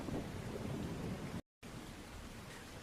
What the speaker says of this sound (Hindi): बाहर तो बहुत बारिश हो रही है